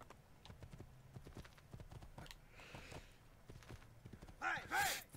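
Horse hooves clip-clop in an irregular walking rhythm in the Assassin's Creed II video game, quiet and close, followed near the end by a short horse whinny.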